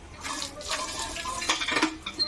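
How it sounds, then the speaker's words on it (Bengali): Bottle gourd leaves are rinsed under a running kitchen tap, a steady close splash of water with brief louder gushes and patters as the leaves are rubbed clean. "এখন আমি লাইয়ের পাতাগুলো ধুয়ে নেবো, ঠিক আছে, পরিষ্কার করে।"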